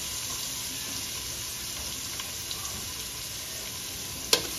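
Garlic and onion sautéing in a hot pan, a faint steady sizzle throughout with a few small pops and a sharp clink near the end.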